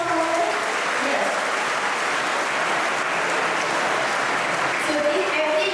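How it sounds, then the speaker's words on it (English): A school audience applauds a cash-prize award at an event, a continuous, even roar of many hands clapping, with someone speaking over it. "So give a huge round of applause for them."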